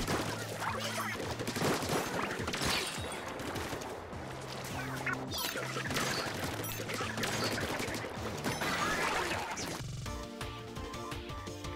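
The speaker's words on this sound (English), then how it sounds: "the NZAP is a bit more of a continuous shooting weapon as well" Rapid continuous weapon fire from the NZAP in Splatoon 3, a dense stream of splatty shots layered with game music and effects, loud and busy throughout with a brief musical shift near the end.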